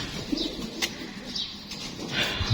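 Racing pigeons during a race-training toss coo in low, soft bursts while wings flap and clatter close by, with faint chirps mixed in and no talking.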